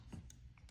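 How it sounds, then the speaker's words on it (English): Small spring-loaded scissors on a budget everyday-carry multitool snipping once, a faint quiet click followed by a brief bright metallic snip near the end, close up with no talking. "you have good scissors when it makes that little sound like"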